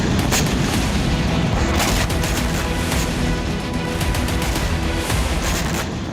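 An explosion destroying a Russian military post: a dense, loud roar of blasts and crackling debris rumbles continuously, with repeated sharp bursts layered over a heavy low boom.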